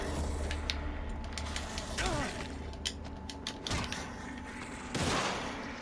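An enemy's gun fires in The Evil Within, with a few sharp shots spaced a second or two apart, mixed with creaking, mechanical game noise and a steady low hum.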